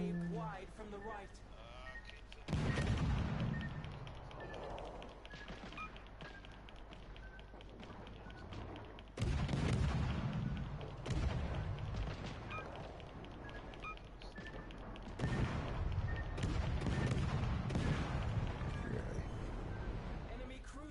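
Booming naval gunfire and explosions from a warship video game, heavy blasts arriving in loud bursts roughly every six seconds over continuous low battle rumble, with a voice speaking between them.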